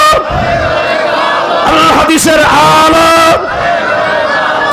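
A large protest crowd shouts the takbir chant in loud, ragged unison, with a swelling roar of many voices that rises and falls in waves.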